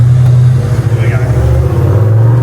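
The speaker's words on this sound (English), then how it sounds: "I'm gonna reverse back so I can grab second gear, and Trav's gonna hang on." An off-road 4WD on a hard wheeling track at Avoca revs loudly in second gear, a strong, steady low engine drone that rises and falls close by, with a voice briefly over it.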